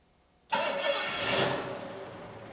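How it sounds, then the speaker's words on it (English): A car engine fitted with an Autolite 4100 carburetor catches abruptly after a short near-silent lead-in, then runs rough and loud for about two seconds before easing slightly, close to the microphone. "This engine's going to start and run for a few seconds, and then fuel's going to come out all over everywhere."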